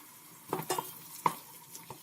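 Potato pieces tumble into a pan of carrots frying in oil for celery soup, giving a few soft scrapes and clatters over a faint sizzle.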